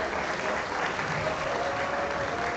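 An audience at a state-level career fair in Pahang applauds in a steady, even wash of many hands clapping together, moderately distant and without a break, with no voices over it.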